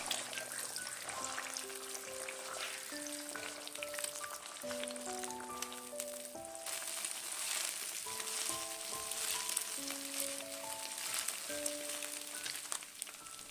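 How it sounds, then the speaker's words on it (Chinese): Beaten eggs hit hot cooking oil in a pan and are quickly broken up with a spatula, giving a constant crackling sizzle under a gentle background melody. "油热之后倒入搅散的鸡蛋液，用铲子快速的划散"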